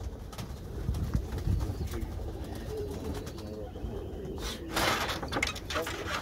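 Competition pigeons give low, soft cooing calls close by, repeated in short bursts, while someone speaks quietly in the background and there are occasional rustles and a brief clatter.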